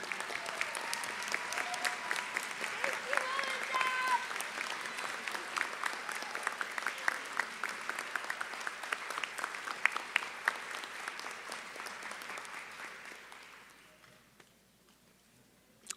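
Sustained applause from a graduation ceremony audience honoring the graduates' families, a dense steady wash of many hands clapping that holds for about thirteen seconds before fading away to near silence.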